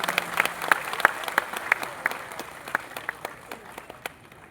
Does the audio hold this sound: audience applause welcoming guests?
yes